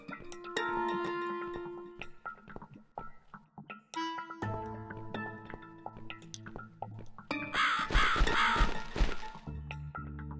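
Crow in The Cat Lady video game giving short caws among clattering game sounds and musical tones, ending in a loud, rough burst, with no talking.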